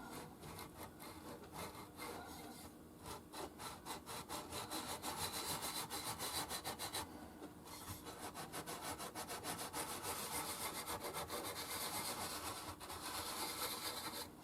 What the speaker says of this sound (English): So you're putting scratches in whatever direction you're sanding in.